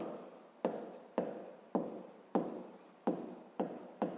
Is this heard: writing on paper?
yes